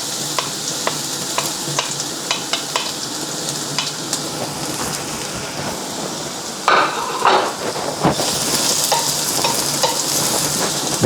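Chopped garlic fries in olive oil in a preheated pan, a steady close sizzle with scattered sharp crackles and stirring clicks, growing louder and busier near the end as more oil spits.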